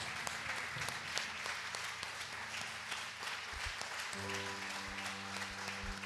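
A church congregation applauding during a worship service, with steady, moderately quiet clapping from many hands under sustained music and singing.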